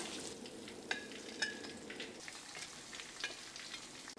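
Squid pieces fry in hot oil with a steady close sizzle, broken by a few sharp crackles and metallic taps from the utensil, moderately quiet and without talking.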